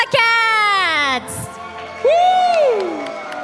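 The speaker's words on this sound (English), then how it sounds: "we can see all the team members cheering for them" Team members at an offline esports grand final cheer and whoop in loud bursts, a sustained shout followed by a pause and then another rising, falling yell.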